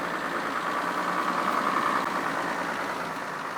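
A four-wheel-drive vehicle labours up a hill in a forest, with a steady loud engine drone and wheels spinning, in a continuous rumble that barely changes over a few seconds; no one speaks.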